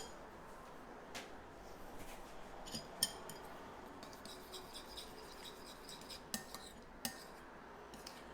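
A spoon scrapes and clinks against a bowl as melted protein ball mixture is stirred, with scattered sharp taps over a soft, steady scraping; quiet and close, no talking.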